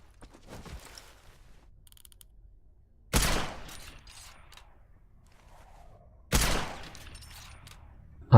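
KSVK rifle firing in Ghost Recon Phantoms, two heavy booming shots spaced about three seconds apart, each trailed by a mechanical rattle of the action, with another shot starting at the very end.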